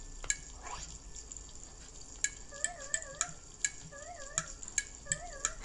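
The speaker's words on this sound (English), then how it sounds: "Listen to the sizzle." Food sizzles and fries in Animal Crossing New Leaf, with soft crackling over the whole span and a run of short sharp chimes and warbling tones, each repeated about a dozen times.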